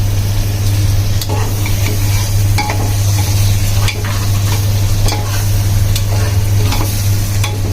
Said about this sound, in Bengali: এখন দিয়ে দিচ্ছি নিহারি হাড়গুলো